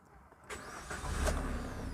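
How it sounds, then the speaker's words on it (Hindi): A car engine cranks briefly, then catches and settles into a low, steady idle, close by and fairly quiet, with no talk. "ये मैंने गाड़ी स्टार्ट कर दी बिल्कुल"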